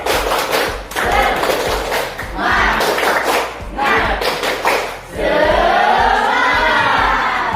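Classroom group standing for a rhythmic cheer clap, with loud patterned thumps and claps in a steady beat, followed by a burst of crowd voices shouting together near the end.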